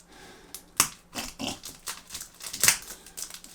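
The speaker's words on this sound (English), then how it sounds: "So let's cut this bad boy open and let's see what we've got" A cardboard shipping box holding a TMNT Shadows of the Past board game is cut open, giving a few close scraping, crunching slices and tearing sounds in short irregular strokes.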